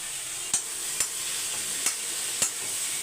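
Onions and tomatoes sautéing in a pan, a steady bright sizzle with a spoon scraping and stirring about five times at an even rhythm, close and fairly loud, with no voices.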